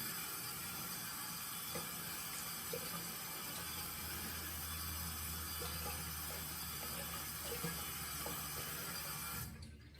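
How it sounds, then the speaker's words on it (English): Cold water runs steadily from a tap while something is rinsed, a continuous faint hiss and splash for several seconds that cuts off near the end. "I rinse it off pretty much straight away. And I do it with cold water"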